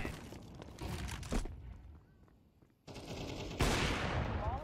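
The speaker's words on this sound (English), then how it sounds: "And I was shooting him through the box." Gunfire in the Counter-Strike video game, with bursts of rapid automatic shots firing through a box, loud and close, dropping to a quieter lull before heavy shooting resumes.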